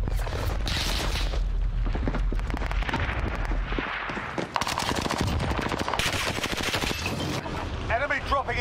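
Rapid bursts of automatic gunfire and single shots crack repeatedly in a Warzone online shooter match, loud and close, with a player's voice talking over parts of the firefight.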